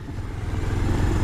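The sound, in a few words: motorcycle riding on off-road track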